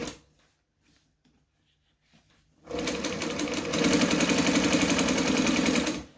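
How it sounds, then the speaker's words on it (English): After a few seconds of near silence with faint handling noises, a domestic sewing machine starts up and runs in a steady, rapid whirring burst for about three seconds while back stitching a seam on a lining, then stops. "I'm going to back stitch to lock it in."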